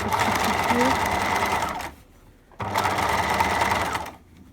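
A sewing machine stitches a fabric face mask seam in two loud, steady runs, each about two seconds long, with a short quiet pause between them, heard close up.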